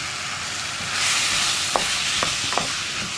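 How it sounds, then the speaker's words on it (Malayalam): Potatoes with turmeric powder sautéing in a pan for an Urulakkizhangu Ulli Masala, a steady close sizzle with a few sharp stirring scrapes of a spoon near the end, no talking. "ഇതൊരു 5 മിനിറ്റ് നമുക്ക് ഇടയ്ക്കിടയ്ക്ക് ഇളക്കി കൊടുത്ത് ഒന്ന് വഴറ്റിയെടുക്കാം"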